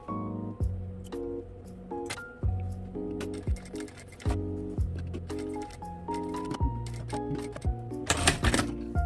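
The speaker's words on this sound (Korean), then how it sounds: "아노락 지퍼 씹히지 않게 재봉하는 과정이었고요" A sewing machine stitches a zipper onto an anorak, running in short mechanical bursts with pauses in between, close up and fairly loud, with a few sharper clicks and rustles of fabric toward the end.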